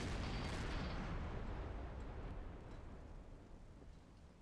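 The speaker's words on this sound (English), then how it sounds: "If I have to fire every shell I have on board, I'll stop." A submarine deck gun fires a shell at point-blank range in the video game Silent Hunter 5, a single heavy blast with a broad rumbling boom that slowly fades, no talking.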